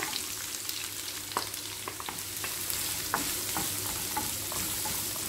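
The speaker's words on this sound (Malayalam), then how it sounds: "കടുക് പൊട്ടി വന്നിട്ടുണ്ട്. അതിലേക്ക് സവാള ചേർത്ത് കൊടുക്കുക." Sliced onions hit hot oil with popping mustard seeds for a chicken pulao, giving a steady close sizzle and frying hiss broken by sharp scattered crackles and pops, with no talking.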